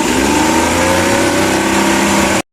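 Suzuki DA64V with a K6A engine running rough, a loud, close, sustained mechanical drone with steady harmonic whine, holding constant before cutting off abruptly at the end.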